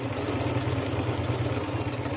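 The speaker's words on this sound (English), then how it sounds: "I'll just do at my machine. I will not pin that on or anything. And use my zigzag stitch and get that all sewn down the center." A sewing machine zigzag-stitches lace down the center of a boho headband, running in a close, steady, fast-pulsing whir with no pauses.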